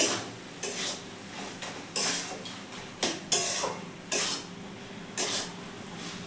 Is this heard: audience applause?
no